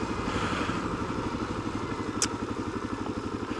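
A Kawasaki KLR650 dual sport motorcycle engine runs steadily with a low, even thumping pulse and a brief clatter partway through, heard close and alone.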